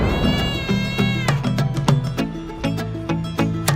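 Cats in the short film Life of Mottu meow repeatedly in close, drawn-out, wavering cries that follow one another in quick succession and overlap, with no talk over them.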